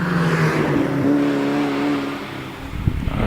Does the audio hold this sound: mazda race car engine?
yes